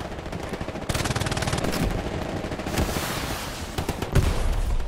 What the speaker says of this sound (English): This guy's going crazy on the machine gun.